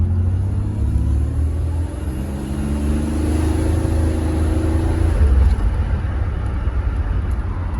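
A Buick Grand National's engine, with its boost turned up, rumbles loudly and steadily nearby, its revs climbing and settling in waves over a deep, constant drone.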